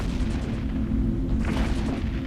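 Weapons fire in an EVE Echoes space battle, aimed at a ship around an Orthrus: a continuous, dense low booming rumble that holds steady throughout, with no voices.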